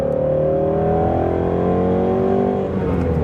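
A Shelby GT350 engine revs steadily up toward 6,000 RPM from inside the car, a loud continuous rising drone that holds strong for several seconds.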